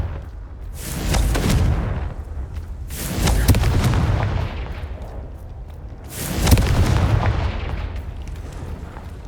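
Confringo fire spell explosions in Hogwarts Legacy on PS5, three heavy booming blasts a few seconds apart, each with a sharp crack and a long rumbling decay.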